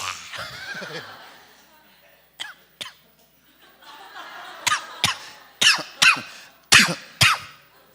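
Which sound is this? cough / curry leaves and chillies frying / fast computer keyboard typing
cough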